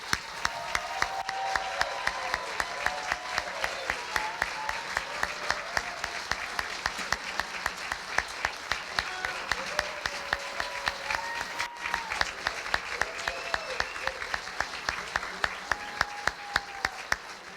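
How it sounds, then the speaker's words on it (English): A large audience applauds new Hall of Fame inductees at a school district athletic ceremony, with steady, dense clapping that runs unbroken throughout, loud and close, while a voice talks faintly underneath. "let's give them one more round of applause."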